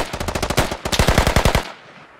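Automatic gunfire in the video game Squad, a loud rapid burst of about twenty shots in quick rhythm that stops abruptly, with no talk.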